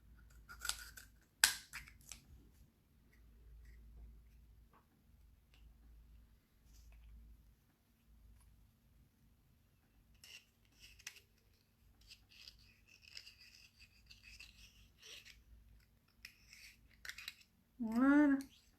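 Scissors cutting during preparation of a homemade day cream, a few quiet crisp snips spread over a largely hushed stretch, with soft handling noises and a brief louder clatter near the end.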